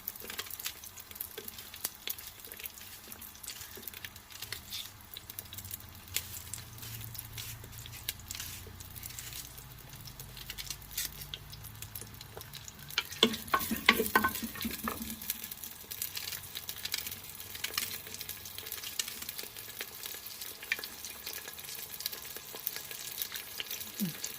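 Onions fry in a pan for potato bhujia, giving a faint steady sizzle under quiet room noise, with a brief burst of louder scraping and stirring partway through.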